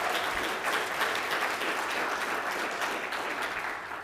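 Audience applause at a real estate association candidate meet and greet, a dense, steady clapping that holds at full volume throughout and eases off slightly at the end.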